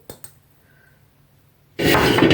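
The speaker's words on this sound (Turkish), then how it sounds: "3 yumurta ve 1 su bardağı şekeri köpük köpük olana kadar arkadaşlar çırpıyorum" Eggs and sugar being whisked in a bowl for a plain sponge cake, with two light clinks early on followed by a loud burst of steady, rapid whisking.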